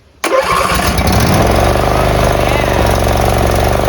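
A Briggs & Stratton engine on a riding mower, previously seized, fires up abruptly and settles into a loud, steady, rough-running drone with a pulsing rhythm, close to the listener.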